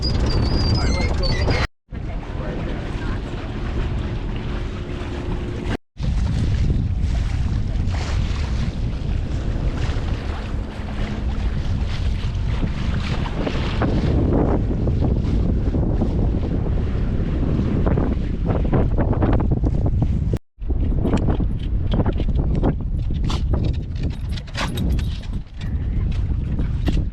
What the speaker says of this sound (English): it's still pretty windy in here